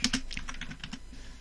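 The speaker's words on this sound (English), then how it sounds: "you're going to want to type in" Quick keystrokes tap on a computer keyboard, a brief close burst of about eight crisp clicks that slows and fades near the end.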